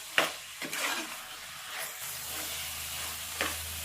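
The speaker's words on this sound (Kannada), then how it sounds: "ಅಲ್ಲಿ ಮಸಾಲದು ಹಸಿ ಸ್ಮೆಲ್ ಹೋಗೋವರೆಗೂ ಚೆನ್ನಾಗಿ ಇದನ್ನ ಫ್ರೈ ಮಾಡ್ಕೊಳ್ಳೋಣ." Masala for rajma pulav fries in a pan with a soft, fairly faint sizzle and a few scattered stirring scrapes, with no voices present.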